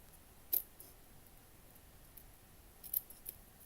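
Scissors snip out a small piece of yellow paper for a miniature cat cafe room box, giving a few quiet, crisp cuts close by in a near-silent room.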